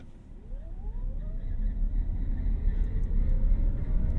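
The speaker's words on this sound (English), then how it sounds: "You just hear it fighting for traction with those tires, trying to keep traction going." A 2024 Hyundai Kona Electric Limited accelerates hard from a stop in sport mode with two people aboard, giving a rising electric motor whine over heavy, building road and tire rumble heard from inside the cabin.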